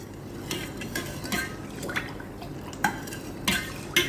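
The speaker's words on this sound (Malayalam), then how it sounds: "നമുക്കിതൊന്ന് ഇളക്കി കൊടുക്കാം." A spoon stirs sugar syrup with lemon juice in a pan for basbousa, giving intermittent scraping clinks and soft liquid swirls up close, with no talking.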